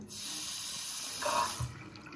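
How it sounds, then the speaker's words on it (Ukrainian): A bathroom sink mixer tap runs water at low pressure with the supply partly shut off, a steady close hiss that swells briefly near the end, with no talking. "Зараз у нас перекрита вода, тому тут небагато води буде текти."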